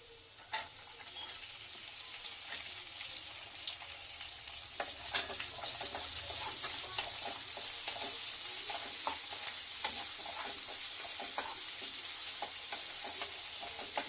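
Onions added to a pan for chilli potato fry in oil with a steady, fairly quiet sizzle, punctuated by frequent scraping stirs and light clatter throughout.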